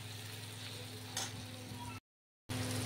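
Masala spices sizzle and crackle steadily in a hot pan during home cooking of an egg curry, a continuous close frying hiss that briefly cuts out before resuming.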